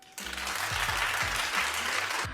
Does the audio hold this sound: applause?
yes